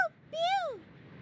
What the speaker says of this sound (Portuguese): O que diz, passarinho?